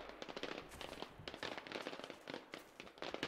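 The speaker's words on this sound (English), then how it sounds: "Fireworks." Fireworks going off in the video game Generation Zero, a quick burst of crackling pops and small bangs in rapid succession, fairly faint throughout.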